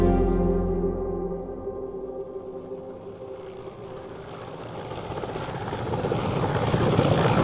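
A large Mi-8 transport helicopter flying, loud continuous rotor and turbine roar with a deep throbbing hum, staying close and powerful throughout and swelling slightly louder near the end.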